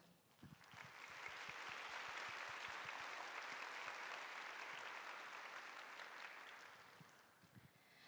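A church congregation claps to welcome a returning missionary during a worship service, starting with a few separate claps, swelling into sustained applause, then thinning back out to scattered claps near the end, fairly soft and without speech.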